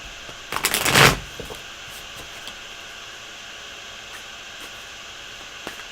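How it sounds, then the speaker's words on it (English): A deck of tarot cards is shuffled in one quick, crisp riffle of about half a second. Quiet hiss follows, with a few faint ticks. "I'm going to be shuffling here for an hour."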